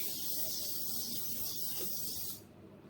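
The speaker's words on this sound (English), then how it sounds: "And just spray it with some spray and cook for me" A close, steady hiss of aerosol cooking spray lasting a couple of seconds, then cutting off abruptly.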